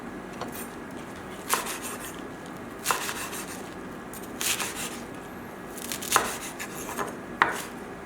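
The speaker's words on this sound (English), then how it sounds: "And then we're going to coarsely chop the green leaves." A knife coarsely chopping green bok choy leaves on a cutting board, a few sharp separated strokes landing irregularly, close and crisp against a quiet kitchen background.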